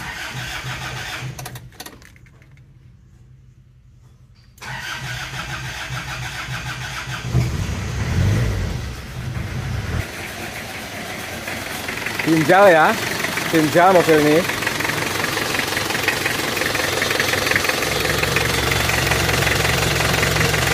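A Panther car's freshly rebuilt diesel engine cranks and catches, then runs and idles with a steady rumble while someone talks over it.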